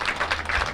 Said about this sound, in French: On nous bat un applaudissement plus fort pour Seigneur.